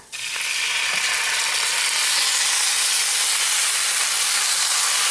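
Tomato drops into a pan of frying tilapia fish and onion, setting off a loud, steady, broadband sizzle that rises sharply after a brief quiet start and holds alone throughout.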